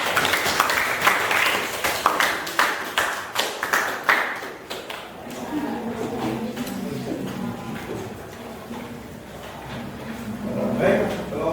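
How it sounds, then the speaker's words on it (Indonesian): A classroom group of students claps in applause after a presentation, a burst of quick, close handclaps over the first four seconds that fades into murmuring voices and chatter. "Tepuk tangan."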